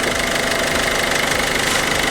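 A Peugeot Expert van engine idles steadily just after starting, a continuous close mechanical rumble with an even knocking rhythm and no talk over it.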